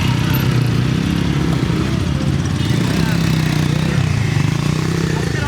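A motorcycle carrying the groom at a village wedding procession, its engine running steadily and loud close by with an even, droning rumble throughout.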